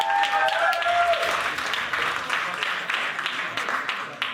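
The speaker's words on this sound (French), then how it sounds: "On peut les applaudir et les remercier pour ce chef-d'œuvre." Applause at a video game awards presentation, a moderate crowd clapping steadily and gradually thinning, with a faint voice or tone briefly audible near the start.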